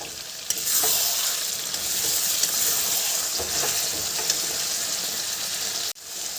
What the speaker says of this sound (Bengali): টক দইটা দিয়ে দিলাম দিয়ে বেশ এবার ভালো করে কষিয়ে নেব